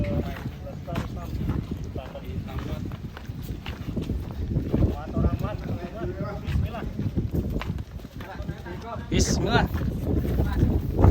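Strong wind buffeting the microphone outdoors while cattle are loaded onto a truck, heavy rumbling gusts throughout, with people talking and moving nearby.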